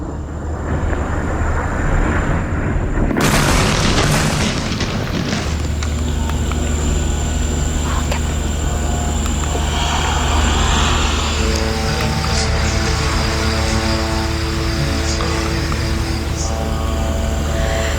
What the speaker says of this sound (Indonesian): Rekaman video menunjukkan hantaman serangan di lereng bukit dengan kilatan ledakan dan suara berdengung yang berputar-putar di area sekitarnya.